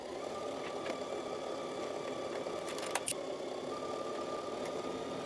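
A sewing machine stitches around the head opening of a fabric tuque, making a faint, steady motor hum. The hum runs continuously with small clicks and no talking.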